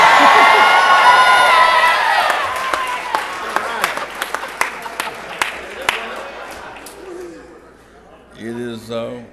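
A large crowd at a civil rights chapter gathering roars with screams and cheers that slowly fade into scattered clapping and whoops. Near the end a speaker's voice rises above the dying noise.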